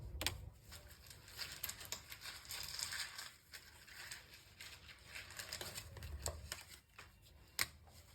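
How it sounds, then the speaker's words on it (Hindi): Tarot cards are shuffled and drawn by hand in a quiet room, giving soft continuous riffling and papery rustles with a few sharper slaps, faint and close, no voice. "मैंने कुछ ज्यादा कार्ड्स निकाले"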